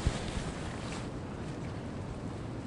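Strong wind gusts steadily across a hiking trail on a section hike of the Appalachian Trail, a loud, constant roar buffeting the microphone with no talking.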